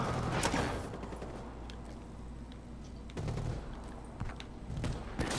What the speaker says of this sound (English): He's got rapid fire on the ICR though.